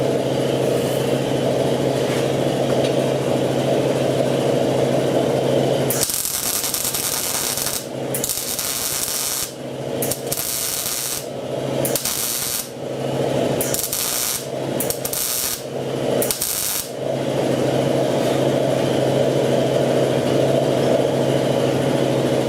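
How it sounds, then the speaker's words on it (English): A grinder takes primer off welds on the rusted core support of a 1969 C10, its harsh high whine cutting in and out in bursts over a steady mechanical hum, loud and close. "I forgot to grind the primer off the outside of those welds"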